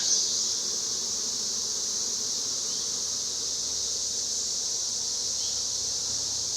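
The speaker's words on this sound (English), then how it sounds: "this has a ton of nurse bees on it" Honey bees hum over a hive frame during an apiary inspection, a dense, steady, high buzzing drone held close and unbroken throughout, with no talking.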